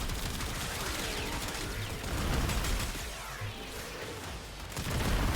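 Weapon fire and explosions in the video game Warframe form a dense, continuous barrage of shots and blasts, loud and busy throughout with surges near the middle and end.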